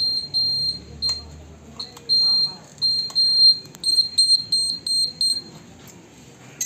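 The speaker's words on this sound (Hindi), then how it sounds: "मैंने इस बाइक में इंडिकेटर बजर लगा दिया है" Short, repeated high-pitched electronic beeps from an indicator buzzer fitted to a BS6 Hero Splendor motorcycle, in an irregular series, heard under someone talking and some handling noise.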